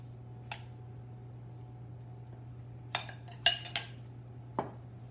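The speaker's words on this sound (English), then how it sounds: "I'm going to take my spoon and I'm just going to put my filling in the middle" A spoon clinks a few times as apple filling is placed onto mini galette dough in a kitchen, with faint, sparse taps and scrapes over a low steady hum.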